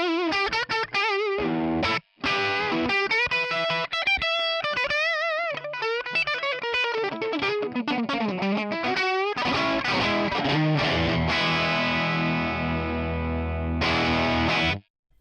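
An electric guitar played through a fuzzy ToneX amp model on the bridge pickup rings out distorted phrases, bright melodic lines then heavier sustained chords, loud and close with brief gaps.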